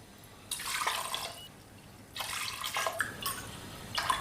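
Water pours into a spice mix for Lucknowi mutton biryani in a pressure cooker, in two or three short splashing bursts with brief pauses between them, close by and moderately loud.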